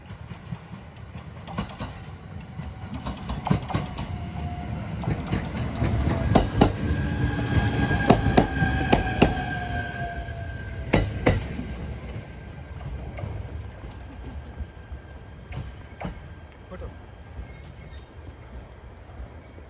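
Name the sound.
short train passing through rural Japan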